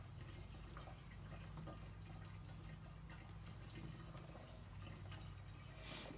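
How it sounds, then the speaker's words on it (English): Dirty, old fuel pouring from the tank of a Kawasaki Bayou 300 ATV into a gas can, a faint continuous trickling splash under low background rumble. "I'm just pouring it into an old gas can that I pour old varnish gas into"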